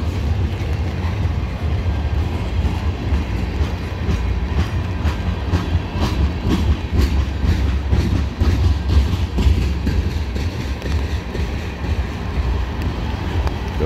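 A CSX freight train of hopper cars rolls past on the old B&O mainline. A steady, loud rumble of wheels on rail carries a rhythmic clickety-clack throughout, with wind noise.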